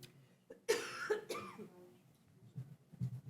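A few sharp coughs close by, followed by a throat clearing, then quiet murmuring in the background.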